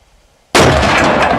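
A cannon fires a bowling ball outdoors: after a brief quiet moment, one sudden, very loud, close blast erupts and roars on without fading.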